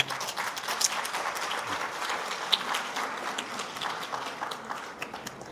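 Sustained audience applause from a crowd at a Spanish-language panel talk on medicine, dense steady clapping throughout with a few sharper individual claps standing out.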